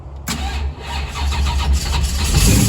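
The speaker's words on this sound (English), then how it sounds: "Now, you hit that button right there to fire it up." A 1967 Camaro Super Sport V8 cranks and fires, settling into a loud, rumbling idle right up close, with no talk over it.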